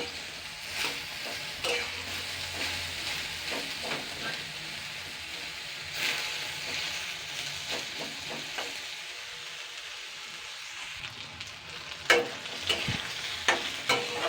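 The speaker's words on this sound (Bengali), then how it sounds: "বেগুন আলুটা ভালো করে ভেজে নিয়েছি" Eggplant and potato fry in oil with sugar added, giving a steady hissing sizzle. Spatula stirs and scrapes through it, with sharper clinks near the end.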